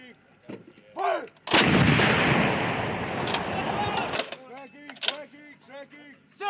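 A single booming artillery or gun blast erupts loud and close, with a long rumbling roar that fades over a few seconds, framed by shouted commands before and after.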